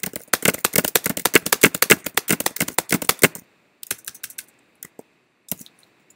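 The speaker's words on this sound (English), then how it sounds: "and just start typing." Fast typing on a computer keyboard, a dense run of close key clicks that thins out into a few scattered keystrokes near the end.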